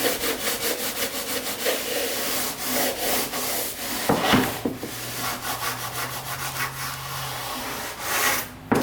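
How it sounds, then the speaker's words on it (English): Hand sanding along a seam on a countertop build, a continuous close rasping rub in quick back-and-forth strokes that stays steady and fairly loud throughout, with no one talking. "Go ahead and sand that."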